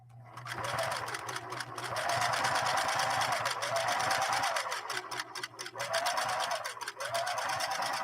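A Singer 6212C sewing machine stitches at close range, a loud, steady mechanical whirring and rapid needle chatter that runs almost unbroken, easing off briefly midway before picking up again.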